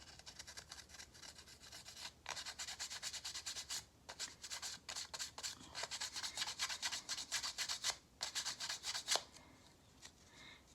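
Sandpaper rubs back and forth in quick, close strokes, a dry rasping scrape repeated steadily with brief pauses, fairly quiet and alone.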